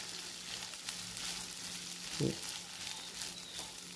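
Sago pearls go into a hot pan for sabudana khichdi and are stirred. A quiet, steady sizzle carries one soft thump near the middle, followed by faint scraping, all at low volume.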